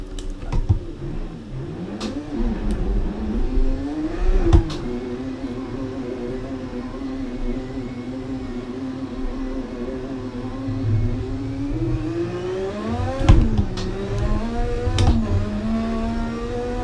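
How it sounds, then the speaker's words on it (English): Simulated race car engine in Assetto Corsa revving and sputtering as it accelerates, a steady droning whine rising and falling in pitch with a few sharp gear-change or misfire bursts, close and continuous for the whole stretch. "the engine is crying enough, it's starting to sputter as I'm accelerating"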